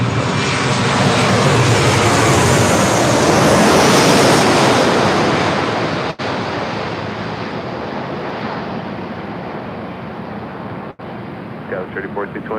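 An Alaska Airlines Boeing 737-800 arriving at LAX from Portland roars loud and close as it passes, then the jet noise fades into a lower rumble, with wind buffeting the microphone and a voice heard briefly near the end.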